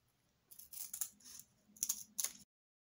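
Paper being trimmed for a journal, heard as a few short, crisp cutting bursts in two pairs, close and fairly quiet, with no talking.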